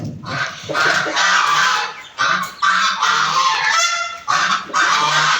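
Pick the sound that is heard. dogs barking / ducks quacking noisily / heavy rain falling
ducks quacking noisily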